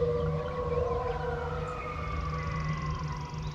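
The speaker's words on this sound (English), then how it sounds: "Coyotes." Coyotes howl at dawn in a natural outdoor setting, their long, wavering calls rising and sliding over one another in a chorus heard clearly and at moderate distance, with no talking.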